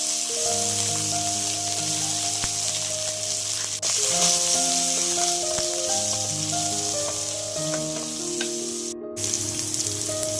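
Ghee tempering of chana dal, dried red chillies, curry leaves, garlic and onion frying in a pan makes a steady sizzle beneath continuous melodic music, with no speech.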